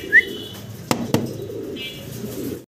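A pair of tiger-coloured fancy Mukhi pigeons coo and call close by, with a couple of sharp wing flaps or knocks and a soft chirp over a quiet background, with no talking.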